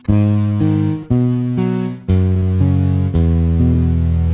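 A heavily distorted bass through a fuzz effect plays a few sustained, buzzing notes in succession, loud and fuzzy, with no voices.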